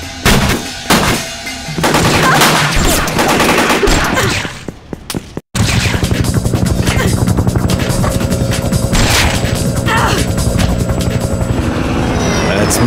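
Gunfire in the PlayStation 1 game Fear Effect: sustained rapid shots and loud crashes over a heavy, droning helicopter rotor, dense and continuous, with a brief drop-out midway.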